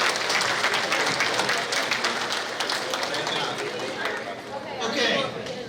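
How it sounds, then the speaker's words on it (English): Sustained audience applause at a school awards day for a student honored for community service, steady dense clapping mixed with crowd chatter, swelling slightly near the end. "Give her a round of applause."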